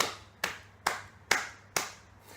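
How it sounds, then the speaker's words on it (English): Five slow, evenly spaced hand claps from a single person, each a sharp close crack with a short decay, with a faint hum in the quiet gaps between them. "That's worth an applaud."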